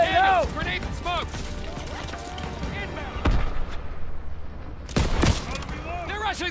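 Gunfire in the WWII shooter game Call of Duty WWII, scattered shots and bursts mixed with shouted voices and battle noise, with sharp louder reports near the middle and end.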